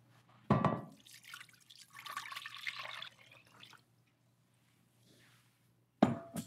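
Water splashes and trickles into a pot for a few seconds, stopping abruptly, with a sharp clank of metal at the start and end.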